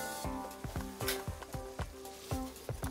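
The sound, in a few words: flour added to melted butter sizzling in pan for béchamel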